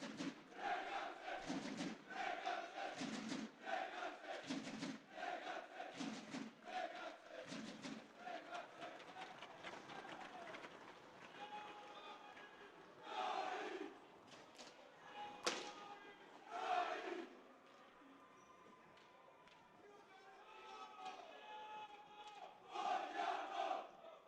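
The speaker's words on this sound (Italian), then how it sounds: "la formazione di casa che entra accolta dagli applausi del proprio pubblico, dai propri fans, dai propri sostenitori" A home crowd at a Serie A1 roller hockey match in Breganze cheers and roars as the home team enters the rink. The crowd noise is loud and rolling, with thumps and shouts and some quieter lulls in between.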